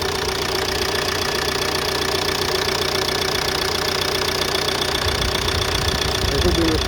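A Ford Mondeo mk4 1.8 TDCi diesel engine with newly replaced injectors idles with a steady, close diesel clatter and knock, a continuous even rumble filling the whole stretch.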